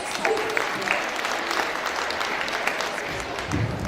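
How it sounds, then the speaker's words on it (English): A school audience applauds performing student teams at a hobby club annual event, a dense, steady wash of clapping that holds evenly throughout, with faint voices mixed in. "Shall we give them a big round of applause?"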